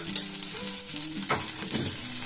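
Bay leaves, a dried red chilli and panch phoron frying in oil over browned onions, a loud close continuous sizzle with stirring scrapes and soft background music, no speech.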